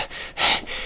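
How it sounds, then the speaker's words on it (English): A short burst of heavy, rasping breaths, close and loud, with a sharp gasping inhale in the middle. "Heavy breathing."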